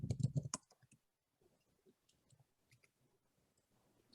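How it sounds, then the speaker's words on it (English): A few light, sparse clicks of keys on a computer keyboard, faint and irregular, following a louder burst of noise at the start. "I'm typing."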